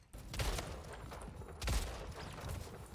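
Shotgun fire in the Splitgate video game: a few separate booming blasts, roughly one per second, with game noise between shots and no talking.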